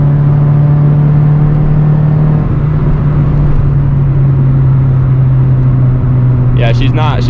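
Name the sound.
Honda Integra accelerating at full throttle in 4th gear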